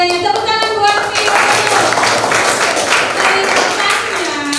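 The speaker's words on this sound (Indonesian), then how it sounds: "Tepuk tangan buat Vio." A classroom of students clapping for a classmate, brisk and close, steady clapping from many hands with a voice briefly heard over the top.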